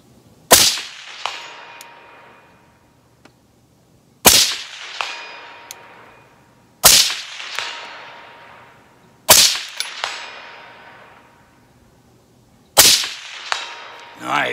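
Five sharp rifle shots from a 5.56 rifle fitted with an Aero Atlas S-One upper, fired outdoors at a steady unhurried pace several seconds apart, each a loud crack followed by a ringing decay and faint metallic target pings.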